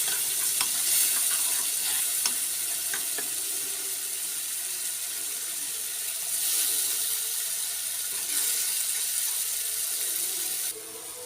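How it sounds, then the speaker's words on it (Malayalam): A chili masala paste for sardine pickle simmers in a pan after water is added, giving a steady close bubbling sizzle with soft stirring scrapes, continuous and even with no voices. "വെള്ളം ഒഴിച്ച് നന്നായിട്ട് ഇളകി നമ്മുടെ അരപ്പ് തിളയ്ക്കുന്നുണ്ട്"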